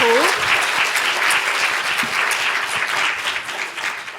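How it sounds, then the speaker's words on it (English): An audience gives a round of applause to a panel of speakers after a discussion, steady close clapping that fills the room for a few seconds and tapers slightly at the end, with a brief voice at the start. "can we just give them a round of applause"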